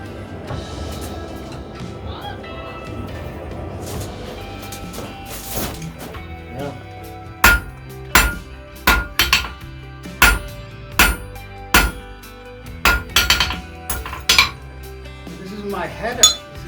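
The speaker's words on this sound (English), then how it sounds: "when I strike it on the anvil, it actually cools out quicker" Sharp, ringing metallic strikes of a hammer on a small piece of hot metal on an anvil at a historic village forge, a dozen evenly spaced clanks in the second half after quieter clinking and handling.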